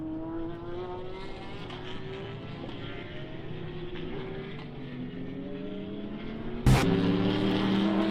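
A safety car circles the Slovakia Ring during a GT Cup Series sprint race, its engine droning steadily with rising and falling pitch as it passes, moderately distant, with a sharp click near the end.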